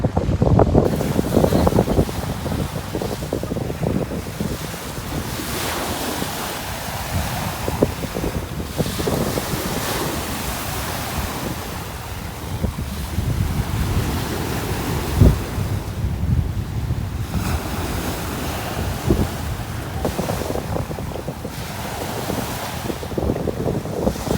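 Strong waves crash and churn along the shore at Manila Bay while gusts of wind buffet the microphone, making a loud, continuous roar with surging swells throughout.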